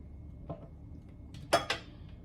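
A knife working through pound cake for strawberry shortcake in a home kitchen gives a few soft scrapes and light clinks against a plate or pan, two sharper taps near the end, with quiet room tone between them.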